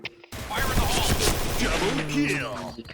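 Rapid gunfire in the first-person shooter game Point Blank, a loud burst of repeated shots with sharp impact and ricochet sounds, up close.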